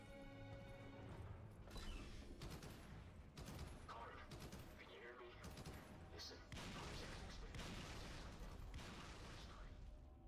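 Gunfire from a gun in the video game Containment rattles in rapid, dense bursts, loud and near, with intermittent talk underneath.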